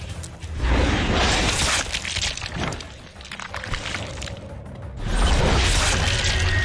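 Gunfire shooting out lights in the video game The Darkness, with loud bursts of shattering glass and crackling impacts that come in waves over a dense, noisy game mix.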